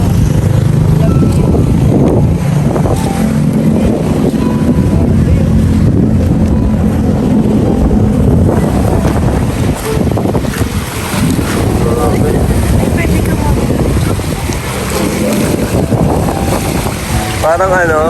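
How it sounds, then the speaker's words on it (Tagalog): Strong wind buffets the microphone over rolling ocean waves and surf at Bagasbas beach in Daet, a loud continuous roar with brief voices mixed in. "Grabe yung dagat."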